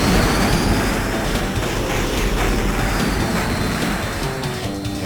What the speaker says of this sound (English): I've actually got to use the afterburner now because of this fucker behind me.